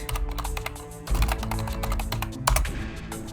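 Rapid typing on a computer keyboard during a game of Unreal Tournament GOTY, with a steady run of close, crisp key clicks and a few heavier thumps.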